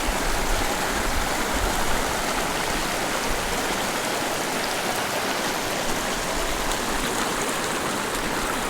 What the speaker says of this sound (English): Is this not a perfect Tenkara stream? This is just perfect pocket water.